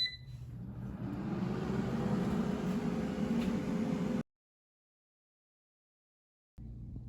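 An air fryer set to 375 degrees Fahrenheit runs with a steady fan whir and low motor hum while cooking a frozen chimichanga, cutting off abruptly into silence before resuming briefly.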